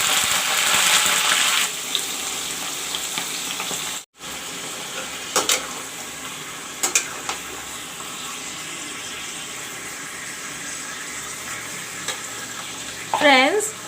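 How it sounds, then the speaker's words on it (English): Ingredients for a mutton curry frying in a hot pan, giving a loud, steady close sizzle with occasional stirring scrapes and clinks and a brief cut partway through. "Now this will fry a bit. And then I will put the mutton in."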